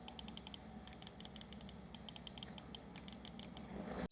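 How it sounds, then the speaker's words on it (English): Side button clicks on an EWEADN S9 V2 gaming mouse, a steady stream of short, bright, closely miked clicks in irregular quick bursts, with no voices over a low steady hiss. "side button clicks"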